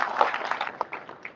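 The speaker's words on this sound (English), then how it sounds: "We may like to give her a round of applause once again" An audience at a youth summit in the Gambia claps briefly, a short burst of applause that fades quickly into scattered claps.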